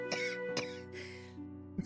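Voiced game character in Layton's Mystery Journey lets out a couple of close, sharp coughs and a throat-clearing rasp, heard over a sustained soft musical backdrop.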